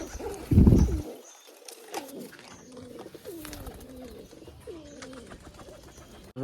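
Pigeons at a rooftop water dish in Gujarat, several soft repeated coos close by, with a brief louder rustle or thump near the start.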